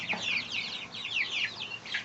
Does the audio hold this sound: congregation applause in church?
no